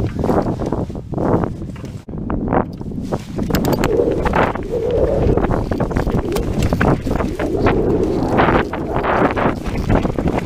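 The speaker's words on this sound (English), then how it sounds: "Always windy up here on ground control." Strong wind buffeting the microphone at the top of the Ground Control rock climb near Sedona, Arizona, a steady loud rumble with gusty surges throughout.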